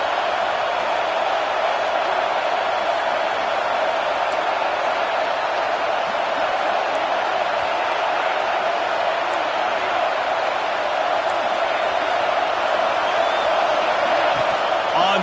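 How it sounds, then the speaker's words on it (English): A home crowd roars steadily at a USC vs Oregon football game, a constant distant wall of noise from the stands that never lets up, with a commentator talking over it. "Man, this crowd really affecting the football game."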